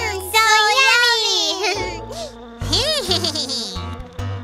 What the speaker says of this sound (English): Oh no! It's a mosquito!